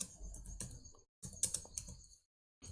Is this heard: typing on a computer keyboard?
yes